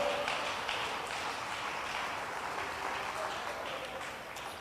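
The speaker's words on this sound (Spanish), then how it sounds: "Dele más fuerte las palmas al Señor." A church congregation claps hands together during a Spanish-language service, a dense, sustained wash of applause that fades slightly toward the end.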